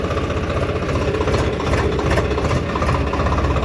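A tractor engine runs steadily at a constant idle-like pitch, with a dense, continuous low rumble and mechanical vibration that stays close and loud throughout, with no voices.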